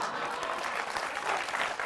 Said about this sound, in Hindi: हर चीज पे ताली बजाना भी अच्छा नहीं रहता है।